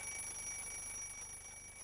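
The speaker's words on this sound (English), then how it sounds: "As we move around the clock, we can still hear the alarm." A ringing alarm clock bell heard from a short distance, a steady continuous high metallic ring lasting the whole moment at a fairly quiet, even level with no voices.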